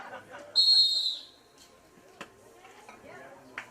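Starting whistle at a Micronesian Swimming Championships race: one sharp, loud blast lasting under a second, with a few faint clicks and voices talking around it.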